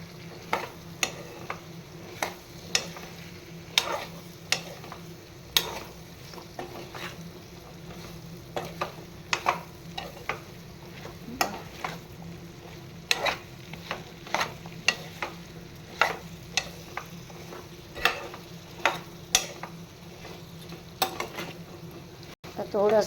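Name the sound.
fennel and spices frying for raw mango pickle on low gas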